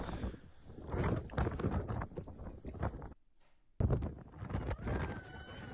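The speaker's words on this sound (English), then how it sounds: "if you're wondering how windy it was, this is how windy it was" Strong wind batters the microphone on a mountain bike race route in the Atlas Mountains, loud gusty buffeting in rough bursts that cuts out briefly before roaring back.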